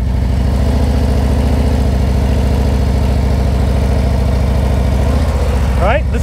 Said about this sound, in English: listen to my engine. It stays the same.